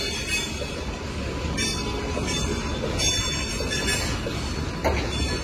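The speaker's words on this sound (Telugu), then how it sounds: "ప్లాట్ఫామ్ నెంబర్ 1 లో ఉన్న గూడ్స్ ట్రైన్ కూడా స్టార్ట్ అయిపోయింది." A goods train starting from platform 1 at a railway station: a heavy, continuous rumble of wagons with metallic wheel squeal and occasional clinks, loud and close, with no talking.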